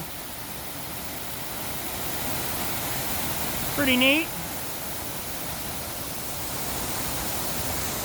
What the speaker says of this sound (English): we got a nice waterfall coming off the side of the mountain